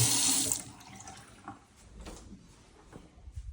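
Water gushes loudly from a tap for about half a second, then fades into quieter splashing and dripping with a few small knocks.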